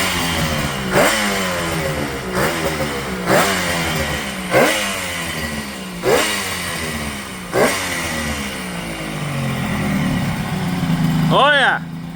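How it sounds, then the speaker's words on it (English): A 1973 Kawasaki S2 two-stroke triple starts and revs with loud, close engine noise, rising in repeated throttle blips about every second and a half, then settling to a steady running note. "So let's get this back together and fire up the bike"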